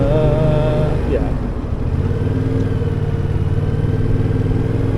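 A Yamaha XSR 700 motorcycle filters through traffic, its engine a loud steady drone with a brief dip and pitch shift, accompanied by wind and road noise close to the rider.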